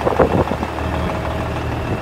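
A 2001 Kenworth W900 truck with a red-top Cummins N14 engine idles steadily, a close, low rumbling drone that holds even for two seconds with a brief louder knock near the start.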